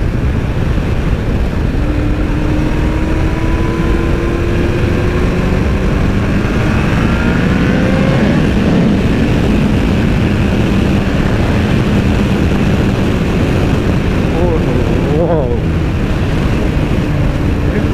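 A Kawasaki Ninja ZX14R motorcycle ridden at night in Multan drones loudly and continuously under heavy wind rush, its engine note rising and falling through gear changes.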